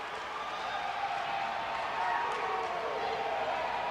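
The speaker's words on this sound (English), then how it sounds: "The crowd is going crazy." A crowd at a 1991 men's college basketball game cheers after a dunk, a broad, roaring wash of voices that stays loud and steady, swelling slightly midway.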